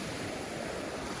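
Waves and wind on a windy morning at Kalithea beach in Halkidiki, Greece: a steady, dense wash of surf and gusting air, fairly faint and unbroken, with no voices.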